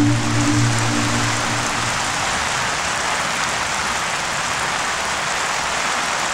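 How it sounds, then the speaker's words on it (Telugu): Heavy rain pours down outside a school in a steady, dense hiss that fills the scene without pause, with a low hum at the start and no voices. "వర్షం ఇంత పెద్దగా"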